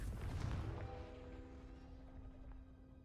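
A Confringo blasting spell goes off in a Harry Potter video game, one broad booming burst that fades over a few seconds into a faint lingering tone, quiet overall.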